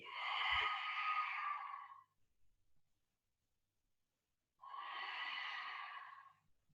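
Slow, deep breathing during a yoga session: two long, close breaths, each lasting about two seconds and separated by a quiet pause, with no talking.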